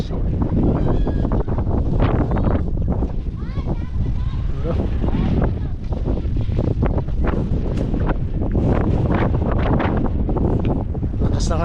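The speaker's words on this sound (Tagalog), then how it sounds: "Lakas ng hangin." Strong typhoon wind roars and buffets the microphone nonstop beside a fishing boat at sea, loud and gusty, with voices talking over it at times.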